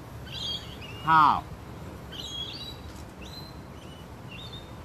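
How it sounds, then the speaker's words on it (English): Birds chirp and whistle thinly in an open park, with a brief louder call near one second, over a steady breezy outdoor hush, after a single spoken word at the start. "there is the sound of birds, sound of the wind."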